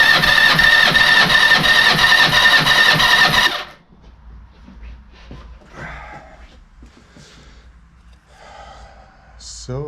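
A Yamaha XJ600 motorcycle engine cranks on the starter during a compression test, a loud rhythmic churning for about three and a half seconds that then cuts off, leaving quiet handling sounds.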